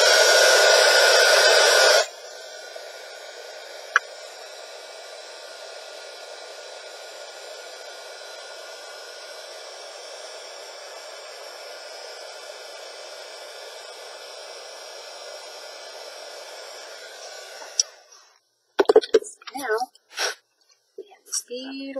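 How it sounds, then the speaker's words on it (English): A heat embossing tool blows hot air in a steady, even whoosh that runs continuously for about fifteen seconds after a brief louder start, then cuts off into a few handling clicks. "use our heat tool to set that."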